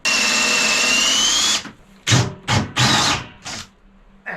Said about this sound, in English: able to drill through here and have clear access through there